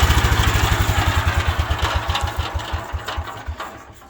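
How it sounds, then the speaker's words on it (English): A 1972 Wheel Horse Raider 12 lawn tractor engine, after sitting unused 15 years, idles steadily with a rapid, regular chugging pulse, close by and fairly loud, gradually loosening in rhythm near the end. "she's idling pretty good now"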